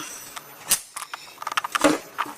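A pin punched out of a PCP air gun trigger assembly with a center punch gives a few sharp metallic clicks and taps, then a quick run of light rattling knocks, close and alone.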